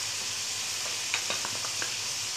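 Nihari masala and paprika powder are stirred in a frying pan for beef nihari, giving a low, steady sizzle with light scraping taps from the spoon and no speech.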